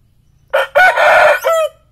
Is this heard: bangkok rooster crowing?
yes